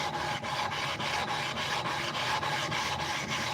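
A sharpening stone flattened by rapid back-and-forth rubbing, a continuous close gritty rasp pulsing in quick regular strokes with no voices.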